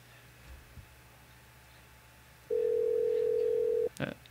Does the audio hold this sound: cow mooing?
no